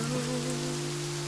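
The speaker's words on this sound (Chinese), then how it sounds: "下这么大雨" Heavy rain falling as a steady, even hiss with a faint low tonal hum underneath, brief and continuous with no voices.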